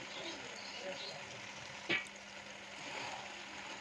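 Vegetables frying in a pan for chicken pasta, making a steady, quiet sizzle close by with a brief scrape of stirring partway through.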